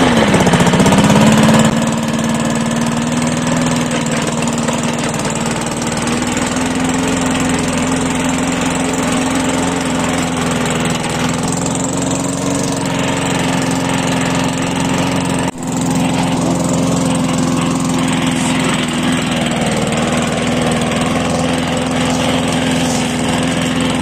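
A Scheppach MS132-42 self-propelled petrol lawn mower runs steadily and loudly up close, its engine droning evenly with a brief dip midway and no voices over it.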